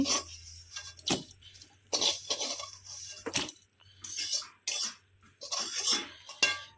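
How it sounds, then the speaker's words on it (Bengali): A kadai (wok) being washed after frying fish, with intermittent scraping, clinking and sloshing of metal and water in short bursts close by, separated by brief pauses. "এখন আমি কড়াইটা ধুয়ে নেই"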